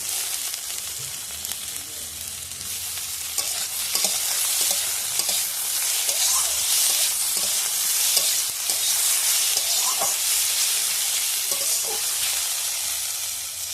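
Chopped tomatoes frying in a village-style egg curry pan, giving a loud, continuous close hiss and sizzle with occasional faint stirring knocks; nobody speaks.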